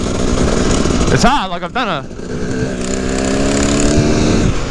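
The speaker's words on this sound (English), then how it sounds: "I think that noise there is the bloody chain, eh? So I can hear like a rattle" A KTM 300EXC two-stroke dirt bike runs with its chain rattling, the engine revving up and down loudly nearby while someone briefly talks over it.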